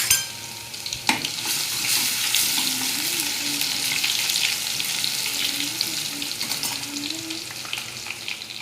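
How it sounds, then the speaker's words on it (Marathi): Garlic dropped into hot oil in a pan bursts into a loud, close, continuous crackling sizzle with a sharp initial hiss and steady spattering throughout, no voices over it. "त्यानंतर मी लसूण टाकून घेते."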